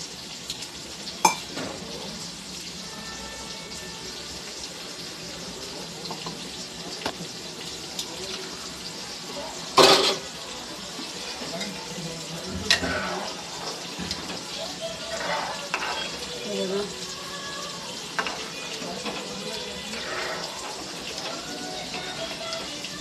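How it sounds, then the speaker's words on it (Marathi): Tamarind water poured into a pan of simmering prawn curry in a home kitchen, a brief splash near the middle over steady low stovetop hiss and light stirring clinks. "आणि मी याच्यामध्ये थोडंसं चिंचाचं पाणी टाकणार आहे"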